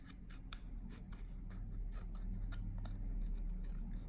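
Scissors make small repeated snips cutting inward along the edges of a paper leaf shape for a peacock sculpture, quiet and close with a soft rustle between cuts.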